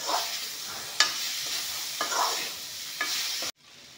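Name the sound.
kohlrabi frying and being stirred in a pan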